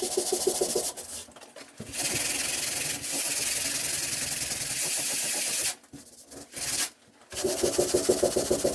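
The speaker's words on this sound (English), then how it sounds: "I'm going to go to these other holes as well and just sand all those and make sure they're nice and smooth" Sandpaper rubs back and forth over patched holes in a wall before painting, a steady close scratchy rasp with rhythmic strokes and a few brief pauses.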